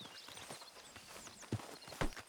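Horse hooves clip-clop across ground in Red Dead Redemption-style western video game, a few soft steps capped by two louder, sharper hoofbeats near the end, with faint ambient background.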